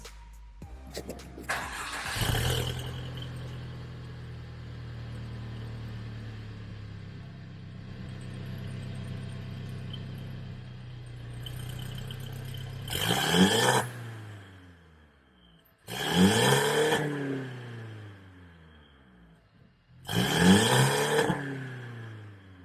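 A Mercedes C300 (W205) engine with a new downpipe cranks and catches, settles into a low steady idle, then revs up sharply three times, each burst roaring before dropping back.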